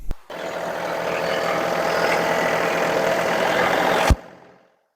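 A John Deere tractor engine runs close and loud at a steady idle rumble for several seconds at a tractor lifting competition, then cuts off abruptly to silence.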